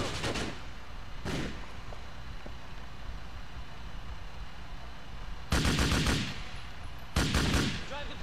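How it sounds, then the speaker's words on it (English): Gunfire in Grand Theft Auto IV, a few sharp bursts of shots with gaps of quieter engine-like background between them, in a smoky firefight. "Get some random shots off, makes it more cinematic"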